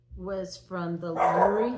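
Bailey the dog barks a couple of times indoors, sharp yaps mixed in with someone talking.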